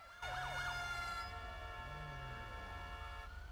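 Police siren in the GTA V video game wails loudly with a rising and falling tone, then settles into a steady electronic drone, heard alone without talk.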